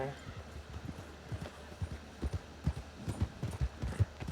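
Horse hooves clip-clop in an irregular, close rhythm as horses are led back toward town, with people talking over the steps throughout.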